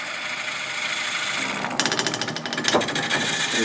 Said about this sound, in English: we'll drill a little depth hole here